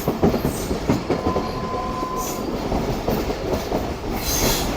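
Rehman Baba Express rolling along rails, a loud close steady rumble of wheels and carriages with faint metallic squeals and a thin whine, continuous throughout with no voices.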